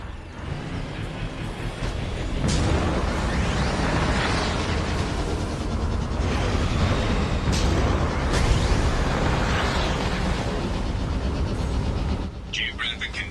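Guided missile explosions in Mass Effect 2 on PS3: a sustained, loud rumbling roar of blasts rises after a short pause and rolls on for several seconds before cutting off, with a synthetic voice speaking around it.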